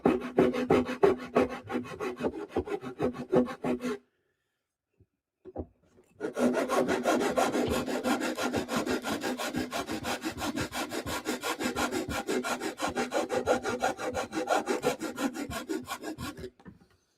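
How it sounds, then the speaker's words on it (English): A small file rasps on a 3D-printed RC truck part in quick, even back-and-forth strokes, close and loud. After a brief pause with a couple of light taps, the rhythmic filing resumes and runs steadily to the end. "Little file, little grind, little cut."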